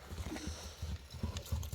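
A purebred Karabair horse, a Kyrgyz breed, clip-clops along, its hooves striking in an uneven quick rhythm at a fair distance, fairly faint.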